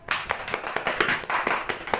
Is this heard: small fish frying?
no